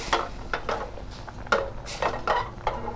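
A spoon stirs rasmalai made with powdered milk in a pot, giving a run of irregular scraping and clinking strokes, close and fairly loud, with no voice.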